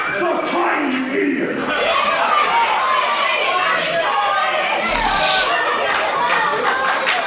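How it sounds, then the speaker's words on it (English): A wrestling crowd at a UKPW match jeers and shouts to rile up wrestler Louis Basham. The noise is a loud, sustained roar of mixed voices with sharp bursts of yelling and clapping near the end. "This crowd's riling him up."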